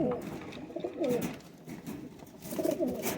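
Golden kasoori pigeons cooing in a loft setup, soft low burbling coos coming in a few bursts close by, with faint background noise between them.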